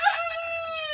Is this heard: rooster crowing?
yes